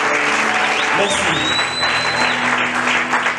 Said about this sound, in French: recevoir notre gratitude par les acclamations